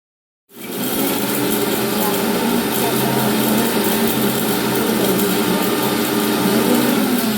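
A mixer grinder whirs to life, grinding spices into powder for a guava pickle. After a brief silence, the motor kicks in with a loud, steady whine and rattle that holds evenly for about seven seconds.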